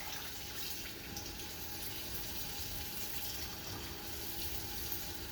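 Water pours steadily into a large seafood boil pot as a continuous, even rushing flow, faint and unbroken.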